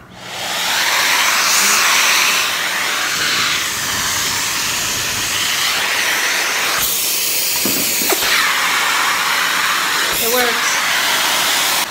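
A vacuum system roars steadily through a suction test at a construction site, a loud continuous broadband hiss and rush that holds for the whole stretch with a few brief shifts in tone.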